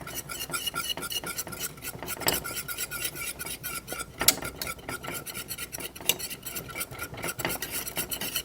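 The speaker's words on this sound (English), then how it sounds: "I've been cooking this and whisking it constantly for 3 minutes" A whisk scrapes and stirs through thick chocolate pudding in a pot as it cooks, making a steady, rapid rasping and rubbing with repeated metallic scrapes against the pan, fairly close and loud, with no talk.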